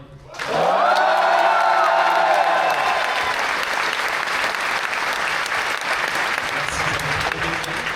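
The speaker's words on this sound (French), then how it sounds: "Je ne sais pas à quel point je suis soulagé de vous entendre applaudir quoi." A crowd bursts into loud, sustained applause with cheering and whoops at an event in Paris, the shouts peaking early before steady clapping continues to the end.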